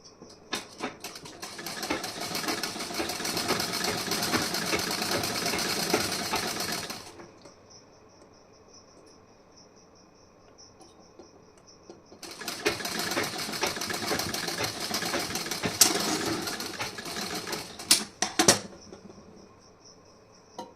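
A sewing machine stitches a blouse in two long, fast, even runs of whirring, separated by a quiet pause, with a few clicks at the end of the second run.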